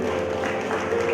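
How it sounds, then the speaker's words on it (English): An audience at a pharmacy college graduation ceremony claps steadily for the graduating students, a brief, even wash of applause with a faint hum underneath. "please encourage the students by applauding"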